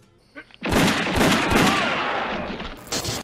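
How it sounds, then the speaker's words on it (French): Booming gunfire from a Sergio Leone western, cannon-like rather than a six-shooter: a rapid volley of loud, heavy blasts with long rumbling decay, preceded by a brief quiet lead-in. "les coups de feu sont pas ceux d'un vrai pistolet à 6 coups,"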